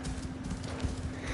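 A horse galloping in Assassin's Creed Shadows, a rapid, even run of hoofbeats thudding close and steady over a brief stretch with no pause.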